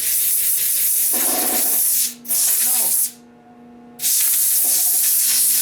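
Air compressor in poor condition blowing air through a nozzle while cleaning a Honda-engine leaf vacuum system, loud steady hissing bursts cut off by a brief drop and a longer silent gap before resuming.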